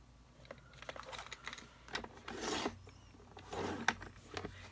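Cardstock being scored for a double slider card, a series of short scratchy scraping strokes and light taps with a few rustles of paper, quiet and close with no talking.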